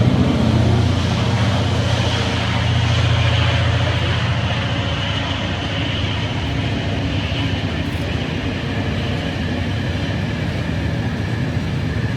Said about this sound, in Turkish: Tren geçecek yine.